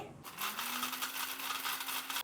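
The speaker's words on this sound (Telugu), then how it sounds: "ఇప్పుడు కొంచెం కొంచెంగా మిక్సీ పట్టుకుందాము." A kitchen mixer grinder whirs loudly and steadily at close range, grinding roasted tamarind and spice powder for pulihora in one continuous burst.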